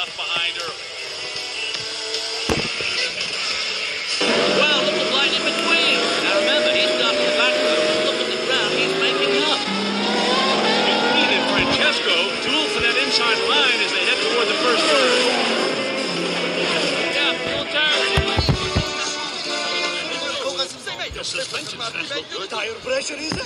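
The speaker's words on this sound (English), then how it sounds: "There's going to be tremendous speed from all these cars coming off the start line." Race cars in the Tokyo World Grand Prix scene of the Cars 2 animated film roar off the start line. Layered high engine whines sweep and overlap continuously, loud and dense, with a commentator speaking over them.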